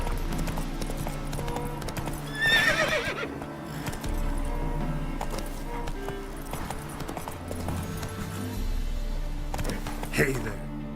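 Horse neighing and hooves clip-clopping at a gallop in The Witcher 3, a loud whinny near the start over steady game music and ambience, with hoofbeats and a second neigh later.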